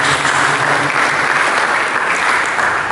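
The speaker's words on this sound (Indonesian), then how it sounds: "Berikan tepuk tangan bagi Yesus" A church congregation applauds during a Sunday service sermon, loud dense clapping filling the room at an even level throughout.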